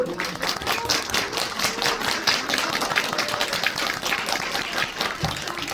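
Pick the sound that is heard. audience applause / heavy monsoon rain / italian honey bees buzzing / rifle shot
audience applause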